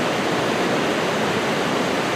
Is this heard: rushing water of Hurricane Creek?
yes